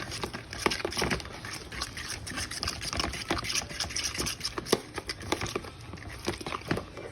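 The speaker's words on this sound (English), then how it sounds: "Give it a good mix with a fork." A fork works through wet lasagna filling in a bowl, giving a steady run of soft squelching, scraping strokes close by, with no voices.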